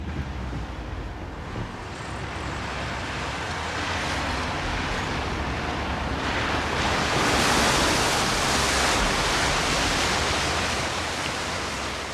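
A 1975 Citroën CX 2200 ploughs through about 12 cm of flood water, giving a steady, loud wash of splashing and hissing spray that swells toward the middle and holds, with engine noise buried beneath.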